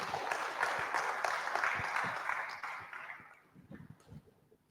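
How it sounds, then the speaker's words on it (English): An audience at a national exhibition and awards ceremony breaks into fairly soft, distant applause that thins out after about three seconds, leaving scattered claps and faint murmuring. "A round of applause for him, please."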